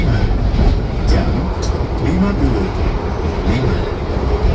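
Tawang Jaya passenger train of Indonesian railways rolling along the rails, a steady loud low rumble with faint rhythmic clatter throughout, heard from inside the carriage.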